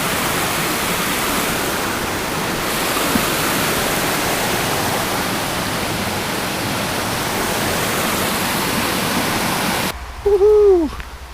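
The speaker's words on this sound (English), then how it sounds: "You can probably hear water in the background because there's been water everywhere" Steady rushing water from streams along a wet mountain hiking trail in King Ravine, a broad continuous wash that stays even, then cuts out near the end with a brief whistle-like hoot.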